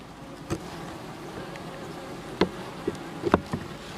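Bees drone in a hive at low volume throughout, broken by a few sharp knocks and clicks near the end.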